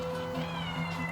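A pet cat in a home kitchen, lured by fried carp, gives one drawn-out, tonal meow close by, with no talking over it.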